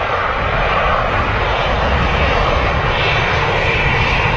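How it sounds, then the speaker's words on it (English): Ryanair airliner touching down on the runway at Manchester Airport, its engines giving a loud, steady broadband roar that holds evenly throughout without a break. "Ryanair just touching down"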